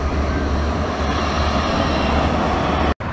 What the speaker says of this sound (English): Let's look at this tram going past now.